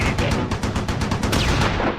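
Rapid small arms fire in the WWII strategy game Close Combat 4, aimed at a German mortar half-track during the Battle of the Bulge: a loud, close, evenly spaced string of sharp shots with no pauses.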